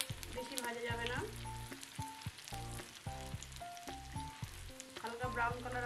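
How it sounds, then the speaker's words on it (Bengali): Egg nest snacks bubble and sizzle in hot oil as they turn light brown, a close, continuous frying hiss with small crackles beneath background music. "এগুলো একটু হালকা ব্রাউন করব বলে এই তেলের মধ্যে দিয়ে দেবো।"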